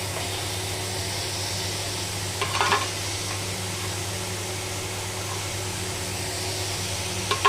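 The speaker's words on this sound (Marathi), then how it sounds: "आता तव्यामध्ये कांदा आणि टमाटर टाकते." Onion and tomato fry on a hot tawa, giving a faint, steady sizzle over a constant low hum, with a brief clatter near the middle and another at the end.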